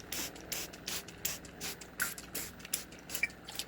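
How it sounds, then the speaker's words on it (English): A hand spray bottle puffs cool water mist inside a vintage caravan, a rapid series of short, fairly close hissing bursts with slight trigger clicks between them. "So I can just like spray myself and the air with it when it's just really dry like it is now."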